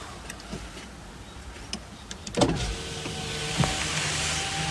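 Electric window motor on a Mercedes ML320 whirring steadily after a few ticks and clicks, a sustained close mechanical drone filling the latter half, with a thump where the glass starts moving.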